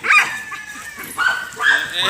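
A few yipping dog barks, close and loud, in short bursts with brief whines between them.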